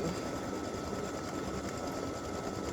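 An embroidery machine runs a test stitch, producing a steady, continuous mechanical whir and rapid needle chatter at moderate loudness, with no talking.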